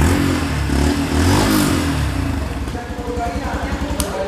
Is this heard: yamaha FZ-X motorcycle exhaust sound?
yes